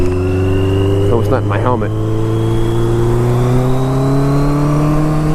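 Engine of a Yamaha Maxim motorcycle on a test ride, a loud steady drone whose pitch climbs gradually as it revs up, with someone speaking briefly over it.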